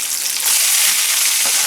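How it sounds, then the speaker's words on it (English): Frozen French fries dropped into hot oil erupt into a loud, dense, steady sizzle that swells after a moment and keeps hissing without talk. "when you throw frozen French fries into oil, believe it or not, it's gonna make a fuss"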